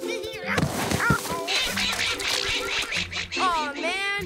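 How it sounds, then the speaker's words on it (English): Cartoon ducks quack in a busy, overlapping chorus of nasal calls, bright and close, with a cluster of rising quacks near the end. "Oh, ducks."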